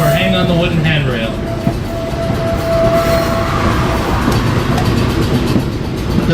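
A 1928 trolley built in Melbourne, Australia, runs on the Mesaba Railway. A loud, continuous rolling rumble fills the ride, with a steady tonal whine, and a voice is heard over it.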